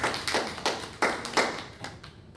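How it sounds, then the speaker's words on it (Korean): A church congregation at a Wednesday worship service applauding, a brief burst of many hands clapping together in a reverberant hall, steady and moderately loud, fading toward the end. "우리 박수 한번 하시죠"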